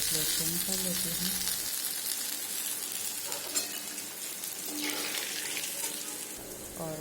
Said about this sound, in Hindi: और बाकी जितने धोखे हैं सबको अच्छी तरह से फ्राई कर लेती हूँ।